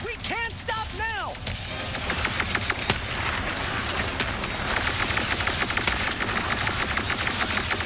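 Weapon fire in Ratchet & Clank: Rift Apart, a dense stream of rapid sci-fi shots that grows busier and louder, mixed with other game effects and a brief talking voice near the start.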